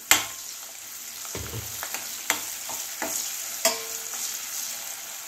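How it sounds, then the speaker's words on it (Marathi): Chopped chillies and garlic being sautéed and stirred in a pan for a carrot-radish pickle, with a steady soft sizzle and occasional sharp scrapes and clinks of the spoon against the pan, close and alone. "अगदी 2 मिनिटं आपल्याला हे मिरच्या आणि लसूण परतून घ्यायचं आहे।"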